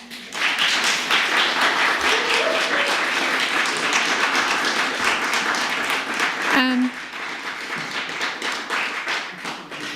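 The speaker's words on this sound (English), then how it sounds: "Audience, I believe they deserve a round of applause." An audience at a city council candidate forum applauds steadily for about ten seconds, with a sharp knock or thump partway through and a voice faintly audible behind the clapping.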